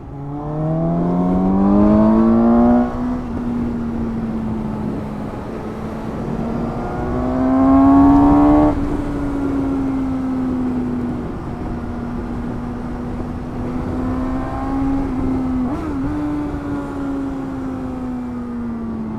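A Suzuki GSX-S750 four-cylinder motorcycle engine hums steadily while riding, its pitch climbing with throttle at times and then settling into a smooth cruise.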